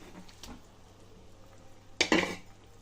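Eggs go into a pan of simmering egg curry with a sharp clatter of metal utensil against the pan, followed by a short rattle and quiet bubbling.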